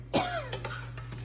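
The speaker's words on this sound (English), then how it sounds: "My cameraman, or camera woman, is coughing because she can smell it" A woman off-camera in a kitchen coughs several times in quick succession while chilies cook, a close dry cough followed by smaller throat-clearing hacks over a low steady hum.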